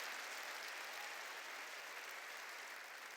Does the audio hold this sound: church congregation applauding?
yes